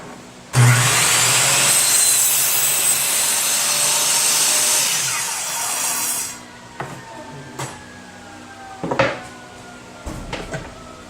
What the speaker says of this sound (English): The saw is back to 90 degrees and we're ready to make the cut.